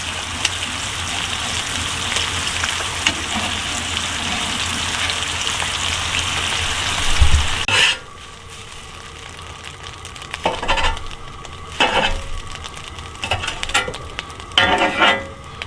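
Bacon frying on a small portable camping griddle gives a loud, close, dense sizzle for about eight seconds, then drops to a quieter crackle broken by a few brief bursts of spattering.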